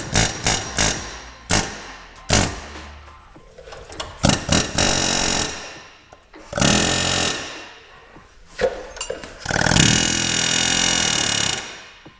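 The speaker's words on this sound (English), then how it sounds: "get an air hammer and get this lip away" An air hammer chisels at a metal lip in repeated bursts, sharp rattling hits of one to two seconds with brief pauses between, loud and close in a home garage.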